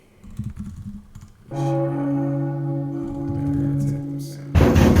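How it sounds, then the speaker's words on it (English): Computer keyboard typing, a few quick clicks at first, then a sustained ringing bell-like tone over faint taps, ending in a louder burst of noise. "I'm typing in this video."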